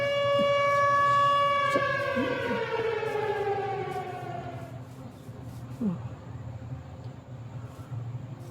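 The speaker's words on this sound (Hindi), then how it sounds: "सायरन हेड की आवाज़ आ रही है बहुत तेज की" A loud, wailing Siren Head siren from Minecraft, with layered tones that sweep downward and fade over several seconds, with a low rumbling drone underneath.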